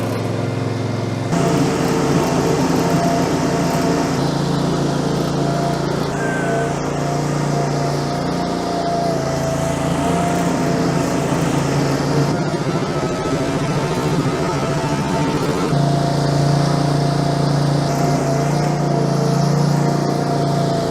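A Westermann CM2 compact multifunction machine scraping the floor of a dairy cow barn, its small engine droning steadily throughout with shifting pitch as it moves and works.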